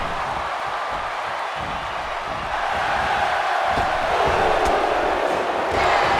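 A sold-out arena crowd in the wrestling video game WWE 2K17 gives off a constant dense roar of cheering that swells slightly partway through, with faint thuds underneath.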